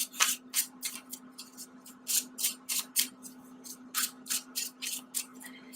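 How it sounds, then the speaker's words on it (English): Tarot cards are given a quick shuffle, producing a rapid series of crisp riffling bursts, close and fairly quiet, in an uneven rhythm over a faint steady hum. "I'm going to do a really quick additional shuffle"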